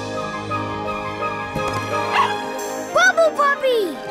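A cartoonish voice barks a few short, yappy puppy woofs, with playful sounds and music in the background, from the Bubble Guppies cartoon.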